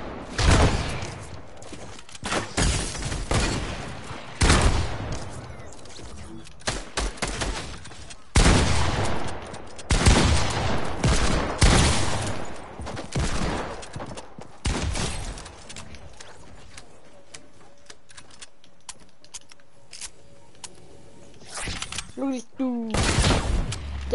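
Bursts of rapid gunfire and automatic weapon fire in a Fortnite match, loud and repeated in clustered volleys with short gaps, a person talking between shots.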